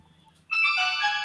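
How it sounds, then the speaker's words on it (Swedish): A phone ringtone sounds during a group call, starting abruptly partway through as a bright, steady electronic tone that rings on loudly after a quiet stretch. "Vad är med det som ringer?"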